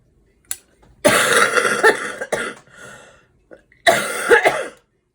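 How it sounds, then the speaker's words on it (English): A person indoors coughs close to the microphone in two harsh bursts, each a cluster of rough coughs and throat-clearing rasps, separated by a short quiet gap. "now I'm gonna have to cough."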